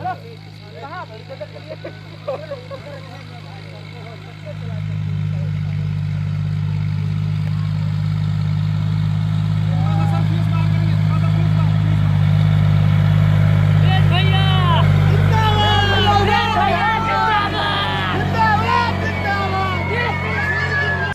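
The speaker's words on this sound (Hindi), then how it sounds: "वीडियो में आप देख सकते हैं कि तेज प्रताप यादव ट्रैक्टर से खेत जोत रहे हैं।" Tractor ploughing a farm field with a crowd gathered nearby, a loud steady engine drone rising after a few seconds and running throughout, overlaid by busy crowd chatter and voices that grow denser toward the end.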